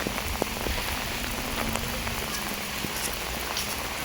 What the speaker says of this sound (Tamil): திரும்பவும் மழை ஸ்டார்ட் ஆகிடுச்சுங்க.